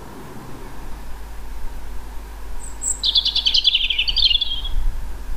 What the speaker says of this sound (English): The robin parent sounds off in the tree while the baby examines and chooses the right yummy foods.